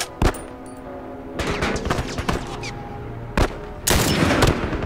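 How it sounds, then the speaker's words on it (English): Gunfire from The Last of Us, heard as several loud, close shots fired in separated bursts over a steady rumbling game background, with no voice over them. "I think I shot Bill!"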